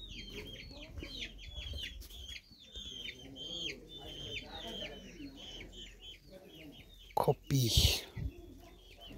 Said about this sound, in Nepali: कुखुरा पालेको